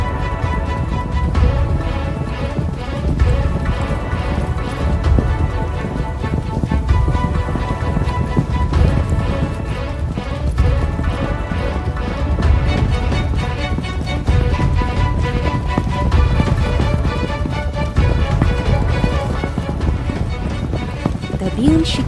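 Horses gallop out of a forest onto an open field in a rhythmic, continuous clatter of hooves, steady and fairly loud throughout, with a narrating voice over the top much of the time.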